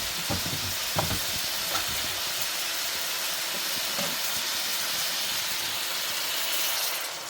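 Coconut milk sizzling in a curry pan for mango and chicken curry, a loud steady frying hiss with occasional stirring knocks, continuous throughout.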